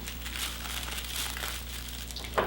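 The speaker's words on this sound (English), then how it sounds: "I very carefully, where I have my first one, I fold it up and fold it in half" Dressmaking fabric is folded in half by hand to mark a dart, giving soft, close crinkling and rustling throughout with a brief sharper rustle near the end, and no voices.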